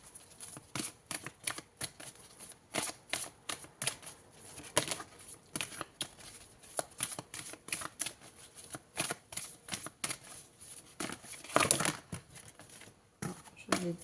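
Oracle cards riffled and flicked close to the microphone in a quick, uneven patter of papery taps and flutters that runs throughout, fairly quiet, with a sharper burst near the end.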